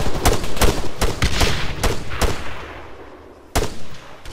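Rapid rifle gunfire in ARMA III, a combat video game: a string of sharp, loud shots in irregular bursts, falling quiet before one last crack near the end.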